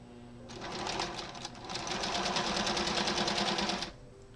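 A sewing machine stitching lines across fabric for a quilt block, a continuous close whirring run of rapid needle strokes lasting several seconds, starting and stopping cleanly with a brief dip in the middle.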